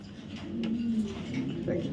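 Racing pigeons cooing nearby in soft, low, throaty murmurs, partly under someone talking.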